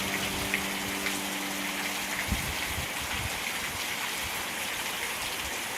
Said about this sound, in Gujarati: આજનો વરસાદ